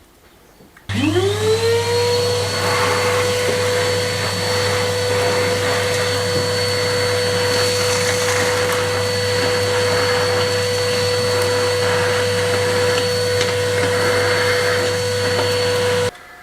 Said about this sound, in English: give it a darn good hoovering and vacuuming